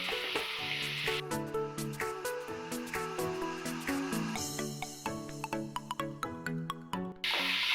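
Onions with a little salt sauté in a home kitchen pan, a close, steady sizzle broken by sharp stirring clicks and scrapes that grow more frequent toward the end, with no talking.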